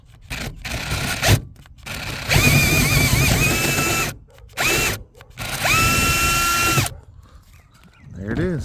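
A power drill runs in several bursts, whining up to speed and cutting steadily through a hole for an NMO antenna mount, with short pauses between and a brief voice at the end.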